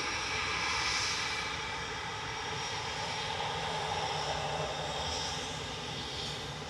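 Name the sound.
Ryanair jet airliner touching down on runway 23 right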